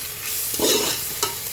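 Chickpea masala fry is stirred in a pan, with a spoon scraping and clattering against the metal over a steady background sizzle, close and fairly loud.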